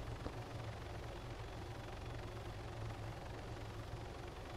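A helicopter in Arma 3 drones with a continuous low rotor rumble, steady and fairly faint, with no other sounds on top.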